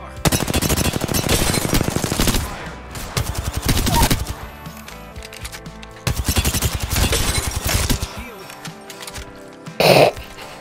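Rapid automatic gunfire in Apex Legends comes in loud, close bursts separated by short pauses, with one last sharp burst near the end amid game sounds.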